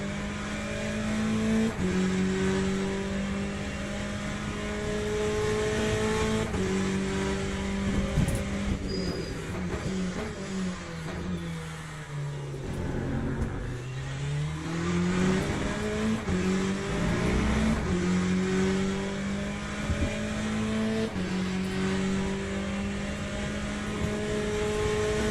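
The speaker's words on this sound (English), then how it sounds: "It's a faster class car approaching." A race car in Le Mans Ultimate drones steadily as a faster-class car closes in behind, with the engine pitch dipping and swooping mid-run before climbing again in a continuous, loud whine.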